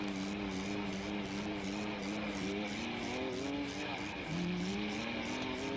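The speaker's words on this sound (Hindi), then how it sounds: "निशु भाई भी अपनी ट्रैक्टर को स्टार्ट करके जाते हुए घाटी की ओर" A tractor's engine drones uphill toward a valley in the Indian Vehicle Simulator 3D game, a steady close tonal hum with a pitch drop and rise partway through, running continuously with no voices.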